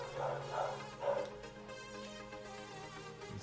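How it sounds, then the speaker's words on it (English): A dog barking a few times, moderately loud, over a continuous droning background of racing game engine noise. "So the dog making her appearance."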